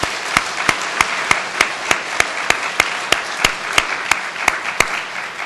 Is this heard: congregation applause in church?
yes